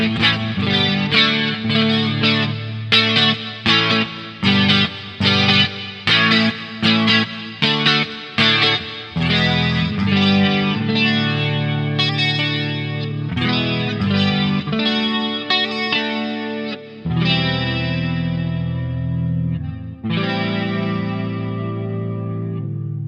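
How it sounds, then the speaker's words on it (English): Electric guitar played through a bright neck pickup with chorus and distortion effects, strummed chords and ringing sustained notes with a few rhythmic stops, loud and close, no talking. "This is a really bright neck pickup."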